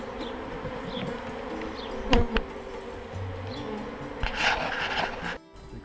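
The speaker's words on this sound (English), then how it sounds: "Look at that box of bees." Honeybees buzz in and around a hive box outdoors, a dense continuous drone close by with scattered individual bees flying past and occasional rubbing, knocking sounds against the wood.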